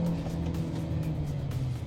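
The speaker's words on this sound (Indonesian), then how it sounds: "Posisi berhenti, kita akan langsung kick down full." A Chery Omoda 5 GT in sport mode under full kick-down acceleration from a standstill gives a steady low engine drone heard from inside the cabin, with no talk.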